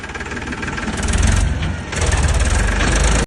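A tractor stuck in mud with its engine running hard, a loud, close, knocking diesel chug that revs up and holds steady, then cuts off abruptly at the end, with no talking.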